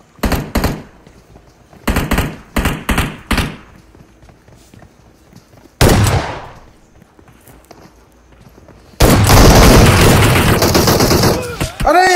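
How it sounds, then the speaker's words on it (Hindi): Shotgun blasts in the mobile battle royale game PUBG Mobile: a quick burst of sharp shots, then a close, loud single boom with a ringing tail, then a dense, loud roar of rapid fire near the end. "अरे यार दो नॉक थे भाई, शॉटगन शॉटगन।"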